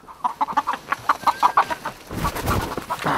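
Chickens cluck in a rapid, agitated series of short calls while being chased on a farm, followed by a burst of louder flapping and scuffling as they scatter.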